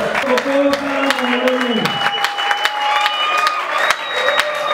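A church audience claps and cheers for a woman, a dense wash of applause with whoops, while a voice speaks over the crowd.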